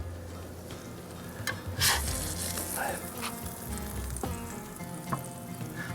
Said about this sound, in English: Flip them over.